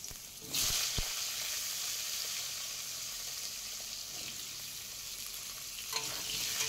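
Cut potatoes go into hot oil already used for frying fish and tempered with whole cumin, setting off a sudden loud sizzle that settles into a steady crackle with an occasional stir; no voices.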